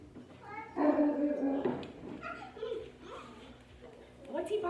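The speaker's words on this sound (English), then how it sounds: "What's he barking at?" A dog gives short whiny barks and yips up close, mixed with whimpering tones, while people talk nearby.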